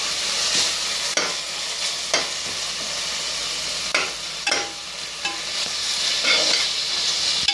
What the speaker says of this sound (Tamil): நாலு ஸ்பூன் இஞ்சி பூண்டு பேஸ்ட் போட்டு நல்லா வதக்கணும்.